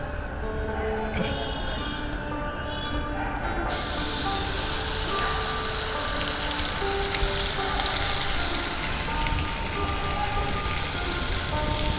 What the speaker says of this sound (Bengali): এই তেলের মধ্যে আমি দিয়ে দেব 2 চামচ রসুন বাটা